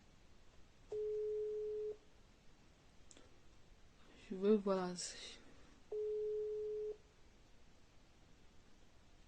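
Two long ringback tones from an unanswered phone call, each about a second, separated by a few seconds of quiet with a brief burst of speech in between.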